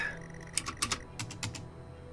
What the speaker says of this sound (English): It's responding to me typing on that Commodore 64.